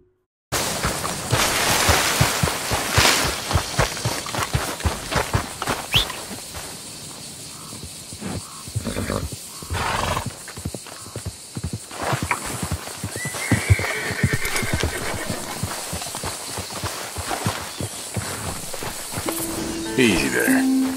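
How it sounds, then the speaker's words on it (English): Horses in Red Dead Redemption, a dapple gray and a thoroughbred among them, whinny and clip-clop at a gallop close by, loud and recurring across the stretch, mixed with game sounds and talk. "The dapple gray runs off when Charles discharges his sawed off"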